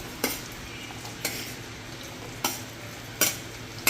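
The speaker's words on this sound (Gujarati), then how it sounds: "સાતડી લઈએ." Capsicum sautéing in a home kitchen pan gives a quiet, steady sizzle, broken by four sharp utensil taps against the pan at irregular intervals, with no talking.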